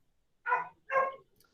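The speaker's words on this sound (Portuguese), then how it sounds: "cachorro da minha vizinha." A neighbour's dog gives two separate barks about half a second apart, moderately loud and slightly distant, against an otherwise quiet background.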